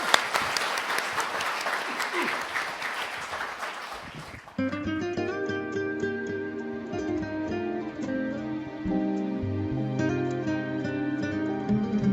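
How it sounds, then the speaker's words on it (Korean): Audience applause at the 32nd Daesan rural awards ceremony in 2023, steady loud clapping for about four seconds that gives way to music starting. "큰 박수 부탁드리겠습니다"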